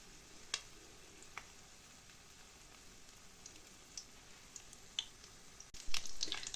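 Cutlets sizzle quietly in a hot pan with a steady crackling hiss and occasional sharper pops, ending with a louder clatter.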